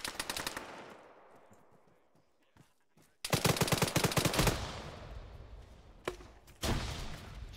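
Automatic gunfire from a multiplayer shooter game, with bursts of rapid shots coming through walls; loud dense volleys at the start, then a lull, then a heavy sustained barrage and a few more sharp bursts toward the end.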